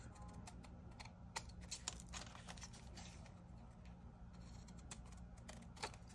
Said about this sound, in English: I'm gonna go ahead and trim off the excess